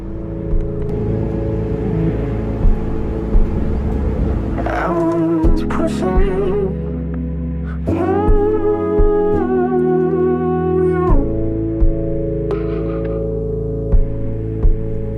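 Low engine rumble and whirring hum aboard a car ferry carrying vehicles, steady and fairly loud, with tonal shifts and a few faint knocks throughout.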